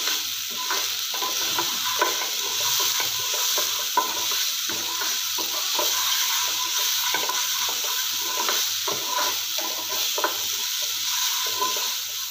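Mushrooms frying in a pan, a steady close sizzle with a soft spoon stirring and scraping in a repeating rhythm throughout, and no talking.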